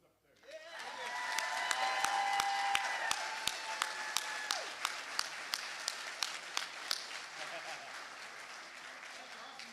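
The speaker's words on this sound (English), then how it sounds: "let's all give a round of applause to our little ones up there." An audience applauds young Sac & Fox tribal dancers in a broad, even round of clapping that swells quickly, holds, then eases off while sharp periodic drum-like hits sound through it.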